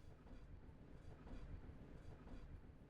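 A train from the Minecraft Bedrock trains add-on rolls steadily along the track, giving a continuous low rumble with a faint clickety-clack. The level stays even throughout, with no speech.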